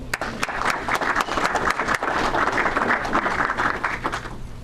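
Applause from a room of Rotary club members at an award meeting, a steady full round of many hands clapping with a few sharper nearby claps standing out, sustained for several seconds before tapering.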